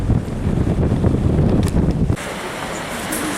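Wind buffeting a microphone on a sheltered cove beach in January, loud gusty roar for about two seconds, then dropping abruptly to a softer, steadier breeze with faint rustle.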